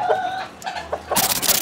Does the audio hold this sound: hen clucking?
yes